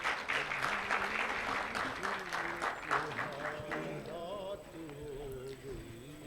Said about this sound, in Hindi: आपकी तालियाँ भरपूर होनी चाहिए।